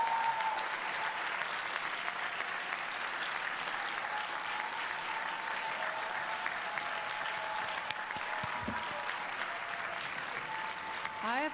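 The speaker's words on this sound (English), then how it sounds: "I want to give another round of applause to all the parents here today." At a 2015 SIPA graduation ceremony, the audience gives the parents a long round of applause, a dense, steady clatter of many hands filling the hall, with a faint tonal hum running underneath and no pause.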